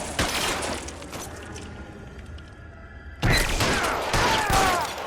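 Gunfire in the video game L.A. Noire: a loud burst of shots at the start, a lull of lower rumbling action, then a sharp, loud volley of shots and impacts near the end.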